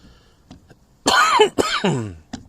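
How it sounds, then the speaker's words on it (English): A man coughs and clears his throat, a few quick harsh bursts close to the mic, with quiet gaps between them. "excuse the coughs, man."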